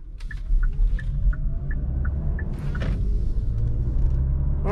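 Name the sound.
Kia Sportage Hybrid car accelerating from a stop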